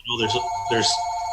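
A landline home phone rings in the background behind ongoing conversation, a steady electronic tone running under the voices.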